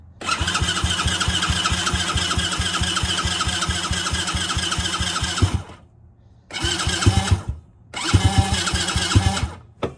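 An X-Pro 110cc kid's ATV engine cranks with a fast, steady starter chatter for several seconds, pauses, then cranks again in two more short bursts, loud and close with no talking.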